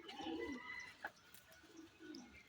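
A closed-tail pigeon gives soft, low cooing calls close by, brief and fairly faint, in a quiet setting.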